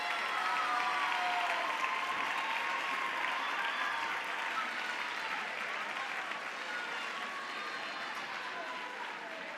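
Sustained applause from a carnival audience for the Coco Dance troupe at the Errenteria comparsa presentation, a dense steady wash of clapping held at an even level for the whole stretch.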